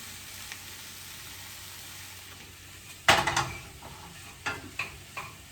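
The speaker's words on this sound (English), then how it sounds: "right now I'm just gonna let the peppers and stuff simmer for a little bit" Peppers cooking in a pan, a quiet steady sizzle broken by a sharp clatter of a utensil against the pan and a few lighter knocks, close, no speech.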